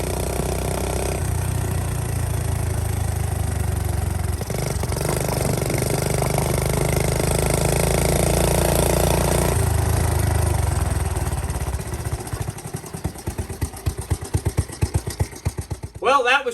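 A Honda Z50K2 minibike's small engine runs off choke with a steady mid-pitched drone, then turns rough and sputtering, with uneven pops near the end. A voice talks over it at times.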